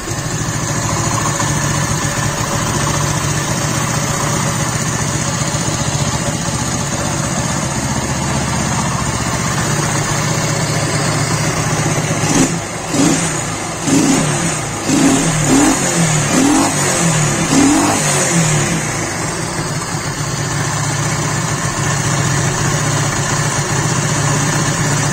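A restored, formerly dead moped engine runs steadily after a starter start, idling loudly with a burst of uneven revving in the middle before settling back to idle.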